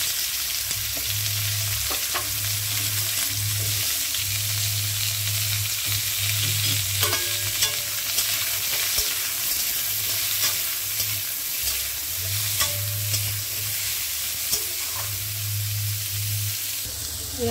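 Cut raw mango frying in a pan with mustard seeds and dried chilli, a steady loud sizzle with intermittent scraping stirs and a low rhythmic hum running underneath throughout.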